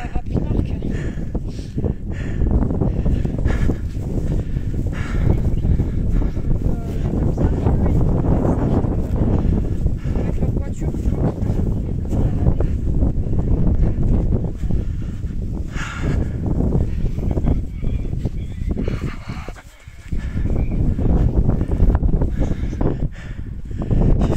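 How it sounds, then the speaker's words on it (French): Strong wind buffets a phone microphone beside a pond, a steady roaring rumble lasting throughout with slight gusting swells and a brief lull near the end. "Il y a un sacré vent"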